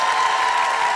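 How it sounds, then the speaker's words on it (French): A live comedy-show audience applauds and cheers for a comedian, a loud, dense wash of clapping and crowd noise with no gaps. "Applaudissez-moi Adolphe Fugazi, s'il vous plaît."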